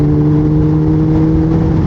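A sportbike engine drones loud and steady at high revs while overtaking on a road through heavy traffic, with sustained wind roar and no voices.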